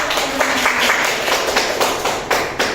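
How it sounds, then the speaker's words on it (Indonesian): A university classroom group claps together, a short burst of many hands applauding at close range for under three seconds. "Boleh tepuk tangan dulu."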